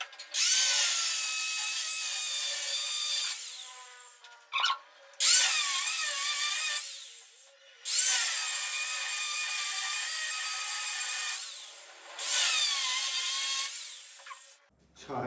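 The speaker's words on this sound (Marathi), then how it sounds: "तर बघू आता आपलं इथं ग्राइंडर मारून घ्यायचं आहे." An angle grinder cuts inside a flat with a loud, high, shrill whine. It runs in four long bursts separated by brief pauses, with no talking.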